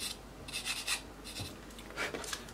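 Light, soft rubbing strokes of a sanding stick on a hard plastic part from a 1/48 P-51D Mustang model kit, with no weight applied, repeated in short bursts, quiet and close.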